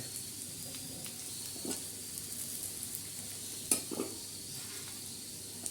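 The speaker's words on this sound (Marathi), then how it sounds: "आता खोबरं सुद्धा ह्याच पद्धतीने आपण असं भाजून घेणार" Grated coconut roasting in a pan after black masala, with a soft continuous sizzle and occasional light scrapes and taps of a stirring spoon, close and fairly quiet.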